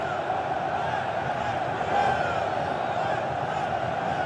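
Corinthians fans celebrate in a packed stadium during a Brazilian league win over São Paulo, a broad, steady crowd roar with chanting that swells slightly midway, heard from a distance.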